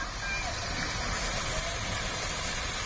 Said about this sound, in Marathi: आणि हाय मोठो धबधबो असो